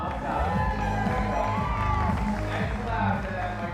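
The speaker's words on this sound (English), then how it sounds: "Make some noise for Mindy, Utah Mom up top." An audience cheers, whoops and shouts loudly and continuously, with some clapping mixed in, over a host's voice.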